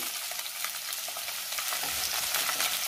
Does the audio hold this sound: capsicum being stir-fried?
yes